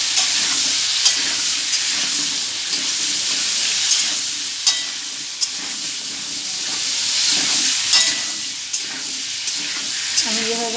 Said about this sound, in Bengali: একসঙ্গে ভেজে নেব আমি আলু কুমড়ো লাল লাল করে।